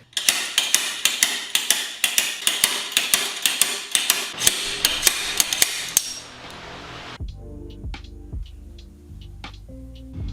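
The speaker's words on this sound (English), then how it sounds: "I'm gonna hit the outer race." Hammer blows drive out the outer race of a bearing during a 2022 Super Chief Limited rebuild, with rapid sharp metallic strikes in a steady rhythm, followed by slower ringing hits on metal.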